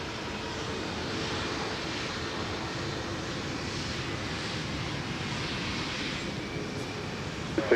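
A SkyWest airplane lands on runway 12 right at Minneapolis–St. Paul airport, heard as a steady, broad engine rumble and rush that holds at an even level throughout.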